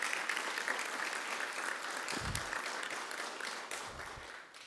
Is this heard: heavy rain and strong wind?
no